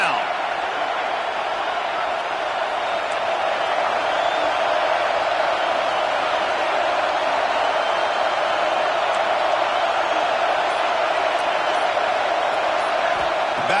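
Steady, dense roar of a home crowd at a college football game as the defense faces third down, a continuous wash of noise with no clear breaks.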